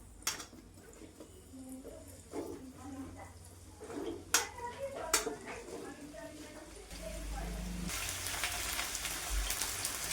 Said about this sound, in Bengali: আলু পটলটা ভেজে নিব।